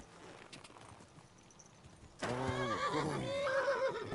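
A horse in Kingdom Come Deliverance 2 lets out a loud, close whinny that breaks in suddenly after a quieter stretch of ambient noise and hoof sounds, then trails off into snorting.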